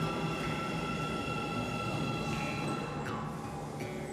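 A recently opened metro train in Kazakhstan rumbles along steadily, with a continuous rolling roar and faint squeals from the wheels and rails.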